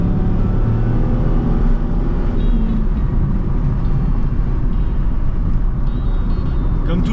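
A 2001 Chevrolet Corvette C5 engine drones steadily while driving, a loud, continuous rumble blended with road noise, with a voice faintly underneath.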